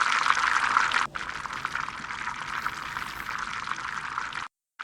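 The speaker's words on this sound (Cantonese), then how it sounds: "再炸多佢4分鐘。" Chicken legs deep-frying in hot oil during a second four-minute fry after being flipped, giving a loud, steady, close-up sizzle with a brief dip near the start, then stopping abruptly just before the end.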